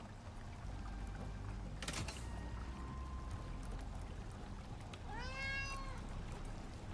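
Cat meows in the Icarus video game, several rising harmonic calls near the end over steady in-game ambience and a brief pouring or rushing burst earlier.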